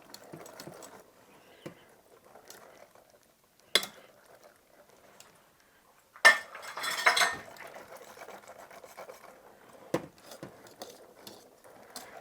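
Eggs whisked into a pecan pie filling in a bowl, a light rapid clatter of the whisk with a few sharper clinks and a busier burst midway, close and fairly quiet, with no talk.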